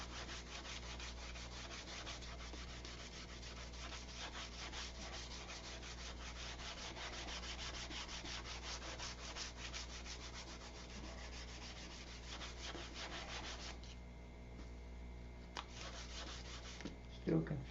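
Wood is hand sanded with sandpaper, moving from 120 up through 320 grit, producing a steady close scratchy rubbing of quick back-and-forth strokes that slows and thins toward the end.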